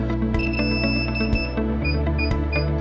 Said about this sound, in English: When the remote controller starts beeping, press the linking button on the aircraft.